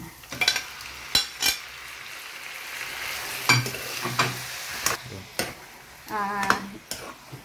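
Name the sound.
chicken frying and being stirred with onion and ginger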